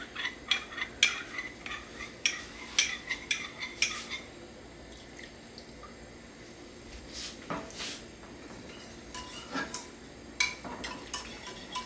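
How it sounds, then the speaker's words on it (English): Cornstarch being stirred into a little water for a slurry, with faint, close clinks of a spoon against a small dish in uneven bursts, then a quieter stretch and a few more taps. "we're just dissolving that cornstarch in the water"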